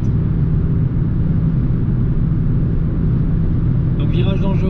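Car cruising on a motorway at night at 130 km/h, a steady loud low road-and-engine rumble throughout, with someone talking over the drone.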